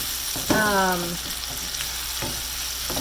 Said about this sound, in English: cook just for like a minute or so until the onions start to get translucent and the garlic gets really fragrant